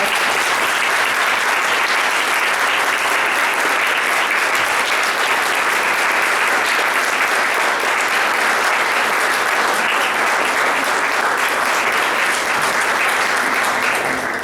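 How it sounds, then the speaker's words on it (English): Sustained, loud applause from an audience at a school senior-project presentation, honoring first responders who stood; dense, steady clapping fills the whole stretch without pause. "Let's give these folks a round of applause."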